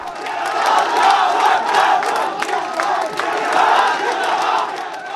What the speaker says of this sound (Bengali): মধ্যরাতে নারায় তাকবির ধ্বনিতে মুখর জগন্নাথ বিশ্ববিদ্যালয় ক্যাম্পাস